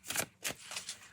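Matte-finish oracle deck cards are hand-over-hand shuffled, giving a few quick, close papery riffles in short bursts with soft pauses between, ending in a sharp tap.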